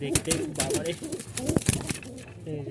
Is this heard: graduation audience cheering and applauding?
no